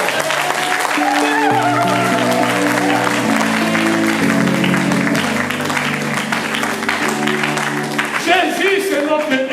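A church congregation applauds and cheers for the Lord during a sermon, sustained loud clapping spreading through the room over steady music, with voices mixed in.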